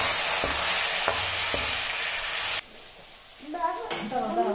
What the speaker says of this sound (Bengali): চিকেনটা একটু ভেজে নেবো।